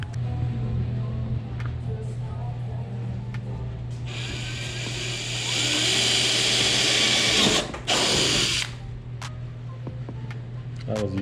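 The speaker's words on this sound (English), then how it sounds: "Now I'm gonna drill some holes in the fiberglass doors" A power drill bores holes in fiberglass truck doors for a second-gen Cummins race truck, a loud steady whine that runs several seconds, cuts out briefly and returns, over a constant low engine hum.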